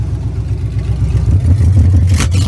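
The engine of a rusty old car, with a stuck brake and no power steering, rumbles low and loud up close, then revs higher as it strains to pull away.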